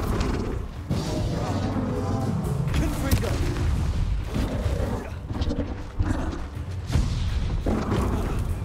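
Bombarda spells detonate in Hogwarts Legacy combat in a dense run of loud, booming blasts and roaring bursts that keep overlapping without a break.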